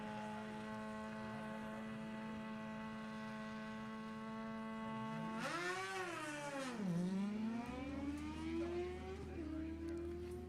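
Two drag race motorcycles, a 2000 Suzuki Hayabusa and a 1979 Kawasaki, idle at the line with a steady high drone, then rev and launch with swooping engine pitch that climbs and falls away, loud and close.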